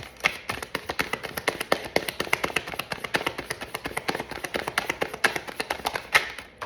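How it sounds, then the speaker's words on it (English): Sharp, quick riffles of a tarot deck being shuffled up close, a dense patter of papery card snaps repeating steadily for several seconds with no talking. "Okay, last shuffle."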